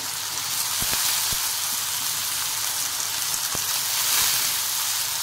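Chopped potatoes frying with onion in a pan for an aloo palak sabzi: a steady, loud crackling sizzle with scattered pops and no talk over it.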